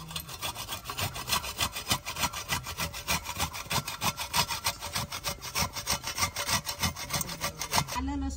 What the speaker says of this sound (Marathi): आता खोबरे किसून घ्यायचं आहे।